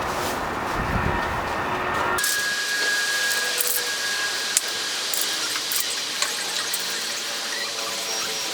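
Steady hiss of a spray paint can coating the front bumper of a C5 Corvette, close and continuous after an initial burst of louder noise, with faint clicks and no talking.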